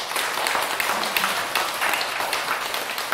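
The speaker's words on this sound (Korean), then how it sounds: "네, 박수." A lecture audience breaks into applause, a dense wash of many hands clapping together at moderate loudness for a few seconds without speech.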